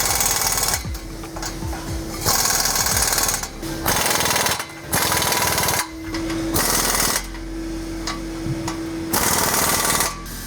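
Bursts of an impact wrench retightening the exhaust clamps on a 2025 Ford Maverick EcoBoost with a 3-inch catback exhaust, several loud rattling hammering runs of one to two seconds with short pauses between, close up.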